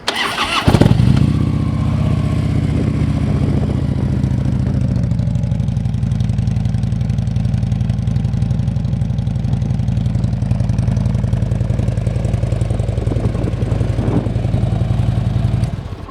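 A 2011 Harley-Davidson Ultra Limited motorcycle engine cranks and catches with a loud burst, then settles into a deep, steady idle that rumbles on evenly for several seconds.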